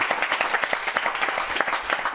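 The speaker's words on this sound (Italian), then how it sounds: "Giacomo, abbiamo capito che di applausi questa settimana non abbiamo problemi, credo, visto la carica della Mantovana." Studio audience applause in a Telemantova football talk show, dense steady clapping filling the whole moment, fairly close and alone with no voices over it.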